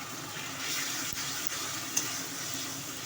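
Water added to a hot pan of salt, turmeric and cumin powder spices, giving a continuous soft hissing sizzle with a faint clink, steady and fairly quiet.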